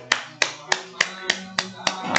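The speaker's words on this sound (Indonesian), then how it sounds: "Aplaus itu biasanya orang memberikan tepuk tangan," A single person claps hands eight times at a slow, even pace, each clap sharp and close, with a faint voice murmuring in the background.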